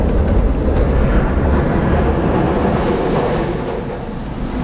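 A train rumbles loudly overhead while passing across a railway bridge, heard from directly beneath the track as a steady, heavy roar with dense low rumble throughout, with no talk.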